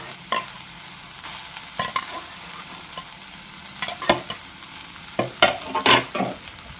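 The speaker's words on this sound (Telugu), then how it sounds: "చూడండి నేను తీసుకున్న మెంతికూర తరుగు వేసేస్తున్నాను చక్కగా అంతా కలిసేలాగా అలాగా తిప్పుకోవాలన్నమాట" Chopped gongura and fenugreek leaves stirred in a hot pan, with a soft sizzle beneath irregular loud spatula scrapes and knocks that grow more frequent toward the end, up close with no talking.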